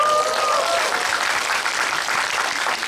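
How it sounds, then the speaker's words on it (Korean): Steady applause from a cinema audience at a film screening event, dense clapping that holds at an even level for a few seconds. "박수 쳐줘서 고맙습니다."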